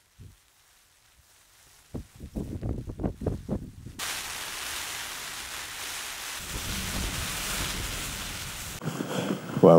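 Wind and rain batter a Lidl Crivit tent at a mountain summit, a constant broadband rush of gusts and rainfall that swells after a few quiet seconds and continues loudly to the end.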